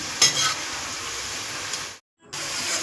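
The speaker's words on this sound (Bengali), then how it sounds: "এবার এটাকে একটু উল্টে পাল্টে নিতে হবে, এবং যতক্ষণ না লালচে করে ভাজা হচ্ছে তুলবেন না।" Potato chips fry in hot oil in a pan, giving a steady close hiss and sizzle with a faint stirring scrape, broken by a short silent gap.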